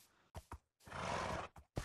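A white horse in the Minecraft video game neighing, with a few short snorting bursts followed by a drawn-out whinny and more brief snorts, close and clear with no talk.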